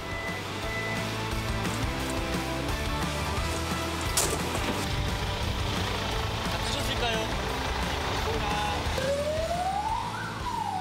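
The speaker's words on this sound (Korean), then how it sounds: "사이렌을 울리며 고성능 산불 진화차가 출동합니다." A large high-performance wildfire suppression truck heads out on a call amid busy vehicle and crew noise, its siren starting to wail near the end with a rising, sweeping tone.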